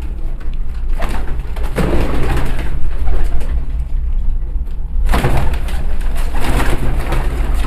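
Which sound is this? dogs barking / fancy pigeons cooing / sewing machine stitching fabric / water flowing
fancy pigeons cooing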